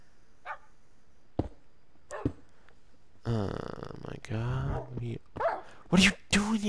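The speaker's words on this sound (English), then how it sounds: "Oh, we got dogs now." Tamed dogs in Minecraft bark and yip in sharp bursts, a few scattered yelps at first and then louder close barks, mixed with someone talking.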